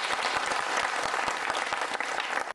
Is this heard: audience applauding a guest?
yes